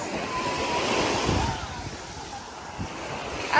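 Sea waves at Kleopatra beach in Alanya, Turkey, wash in a continuous rushing surge with some wind buffeting the microphone, steady and fairly loud throughout with no voices.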